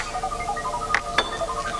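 Small glass objects clink twice while being sorted by hand, two brief, close, moderately loud taps standing out against a quiet background.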